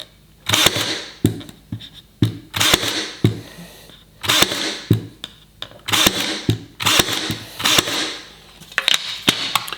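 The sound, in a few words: Ryobi 18V cordless pin nailer firing pin nails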